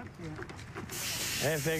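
Roundup herbicide mists from a hand spray bottle in a short, close burst of broadband hiss, beginning partway through and running to the end, while a voice speaks over it.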